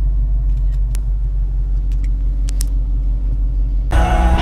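A Mercedes E63 rumbles at a shopping mall with a loud, steady, deep engine drone, ending in a sudden louder burst of broadband noise.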